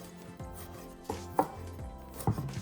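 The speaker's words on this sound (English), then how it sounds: "So thinly slice them unless you want like bits of chunks of garlic when you eat the rice cakes." A knife thinly slicing garlic on a cutting board, giving several sharp, close taps spaced irregularly over a faint background hum, with no voices.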